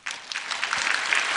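A church congregation claps together after a pastor's thanks during a Sunday service, a steady dense patter of many hands filling the room, fairly soft and continuous with no voices over it.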